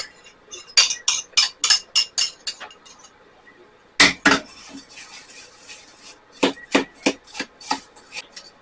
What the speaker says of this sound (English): I crumbled up 1 sleeve of Ritz crackers, and then I melted 2 tablespoons of butter. We're going to mix those together.